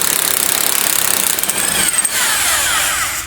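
An impact gun with a 1-5/16 socket hammers at a pitman arm nut on a Firebird's steering gearbox, a loud, close, rapid rattling burst that winds up to a smoother whir as the nut breaks free.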